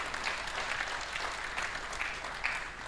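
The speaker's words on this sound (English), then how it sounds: "Let's give them a round of applause." Steady applause from a crowd, a continuous patter of many hands clapping at moderate volume throughout.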